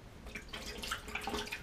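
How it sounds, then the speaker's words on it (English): Water dripping from a thoroughly wet shaving brush, a quick patter of small droplets, close and fairly quiet. "Just let it drip out a little bit"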